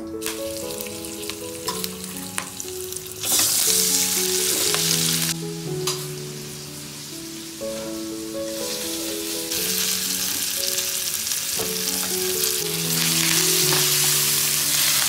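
Spices including red chilli powder and Malvani masala frying in a home kitchen pan, a steady sizzle with stirring running under music throughout, growing louder in bursts partway through.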